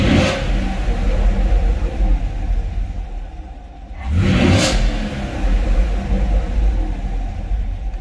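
The engine of a 2018 Chevrolet Camaro Hot Wheels edition is revved close up: a rumbling idle broken by two sharp throttle blips about four seconds apart, each swelling loudly and then dropping back.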